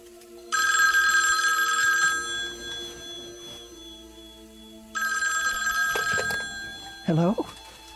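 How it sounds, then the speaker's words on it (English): An old-fashioned telephone bell rings in two loud, sustained bursts separated by a pause, in a radio-drama setting, followed by a short burst of voice at the end. "Was that the phone?"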